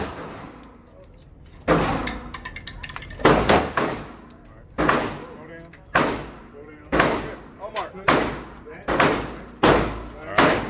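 Gunshots ring out at an indoor shooting range where each lane has an instructor. About nine loud, sharp reports come at irregular intervals, each with a short decaying echo, and people talk quietly in between.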